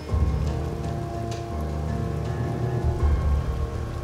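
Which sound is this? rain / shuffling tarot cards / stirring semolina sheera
rain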